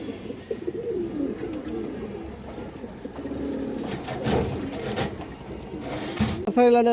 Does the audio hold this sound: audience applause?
no